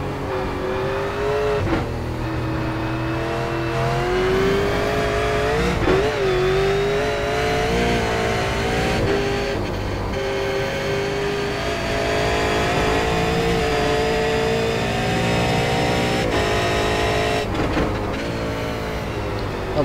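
A V8 race car engine roars steadily around Road Atlanta in the iRacing sim, its loud, continuous tone rising and falling through upshifts and downshifts, with brief lifts and slight tire squeal but no voices.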